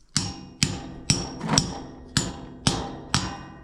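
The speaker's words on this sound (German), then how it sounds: "Jetzt versuche ich einfach mal das Ganze hier mit Hammer und Meißel wegzuschlagen." Hammer and chisel knocking out an old concrete walkway slab: seven sharp, ringing metallic strikes at a steady, unhurried pace, loud and close, each decaying quickly, with no talking.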